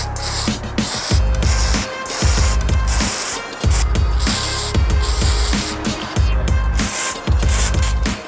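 A floor jack is let down from under a Honda S2000 after a carbon fiber Voltex rear diffuser goes on, giving loud, close mechanical clunks and ratcheting in a steady rhythm about once a second, with no talking.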